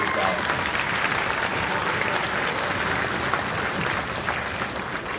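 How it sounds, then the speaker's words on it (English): An audience at a junior spring school concert gives a dense, sustained round of applause that stays loud and even, with faint voices mixed in beneath the clapping. "So round of applause to you as well."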